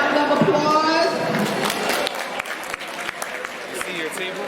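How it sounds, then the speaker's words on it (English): At a veterans appreciation parade, a crowd applauds the grand marshals, with dense clapping and voices that thin into scattered claps toward the end while people talk over them. "can we just give all of our Grand Marshals a round of applause?"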